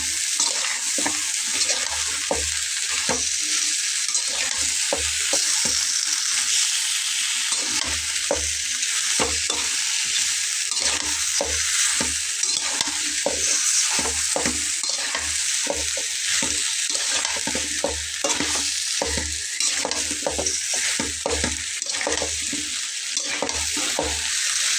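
Vegetable stems and greens fry with dried fish in a pan, loud steady sizzle broken by frequent scraping stirs of a spatula, close up and without talk.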